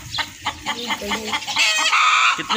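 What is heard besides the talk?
hen clucking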